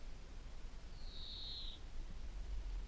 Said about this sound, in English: There's a bird making a funny noise.